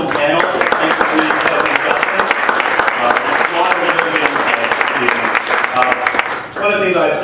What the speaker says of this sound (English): just another round of applause for our awesome panel